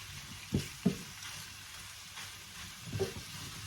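Chicken fries in a little oil with a faint, steady sizzle, broken by a few soft thumps from stirring.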